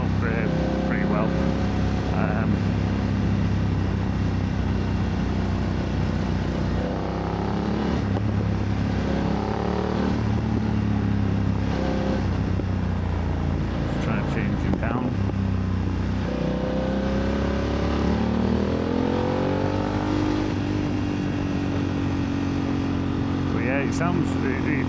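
BMW F900R motorcycle fitted with a MIVV GP Pro titanium exhaust, its engine droning and rising and falling steadily while riding, close and loud throughout, with wind noise and no talk.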